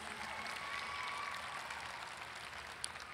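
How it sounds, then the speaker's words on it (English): A graduation ceremony audience applauds the community college faculty, a fairly faint, steady wash of clapping from a large crowd that fades slightly toward the end, with one sharper clap standing out. "So please first give a round of applause, as you did earlier, to the CPCC faculty."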